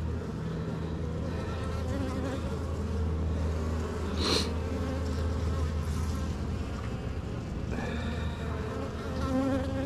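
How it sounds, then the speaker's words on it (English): Honeybees buzz densely and continuously around an open beehive during an inspection in June, a close, steady swarm drone with individual bees flying past the listener. "There's more bees."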